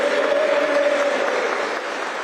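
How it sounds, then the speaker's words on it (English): A crowd at a local election count cheers and applauds the result as a Conservative candidate is declared Mayor for the Tees Valley Combined Authority: a dense, continuous wash of clapping and cheering, loud and sustained throughout. "Well, big cheer there for Ben Houchin"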